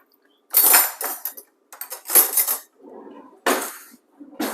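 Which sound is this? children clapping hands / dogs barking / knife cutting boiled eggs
knife cutting boiled eggs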